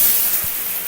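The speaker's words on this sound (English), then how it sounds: "Shower is working." Indoor shower running in a house bathroom, a steady close hiss of spraying water with no talk.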